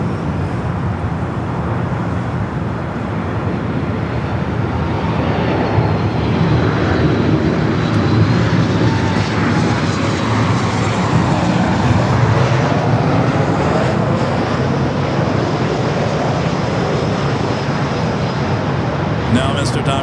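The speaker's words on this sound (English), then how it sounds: "Speedbird number 2 for arrival, flight 269, coming up from London Heathrow." A British Airways jet airliner arrives at Los Angeles International Airport, a loud steady roar of engine noise filling the whole stretch with a broad rumble and no clear peak.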